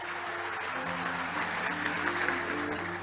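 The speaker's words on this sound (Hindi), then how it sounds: "आपकी तालियां कमजोर पड़ गई हैं" Applause from a seated audience at a public address and poetry recital, steady and fairly loud for about three seconds, with a faint sustained tone running underneath.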